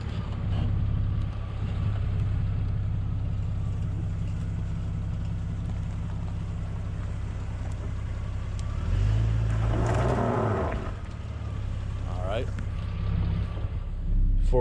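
A Jeep Cherokee XJ rumbles along an off-road trail, its engine a steady low drone mixed with wind buffeting, then a louder surge and clunking as it dips through a hollow, with a short mechanical squeal afterward.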